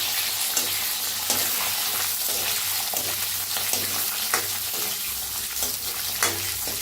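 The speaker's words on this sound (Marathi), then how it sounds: "1 कांदा कापून घेतलाय. भाजून घेऊया." Onion fries in a pan for sambar, a continuous close sizzle with scattered crackles and occasional scraping knocks from stirring, steady in level throughout.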